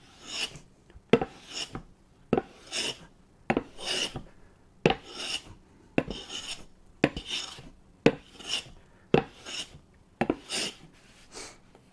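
A Stanley No 12 cabinet scraper is skew-cut across wood in steady, evenly spaced strokes, about two per second, each a crisp, close, bright rasp with brief quiet between.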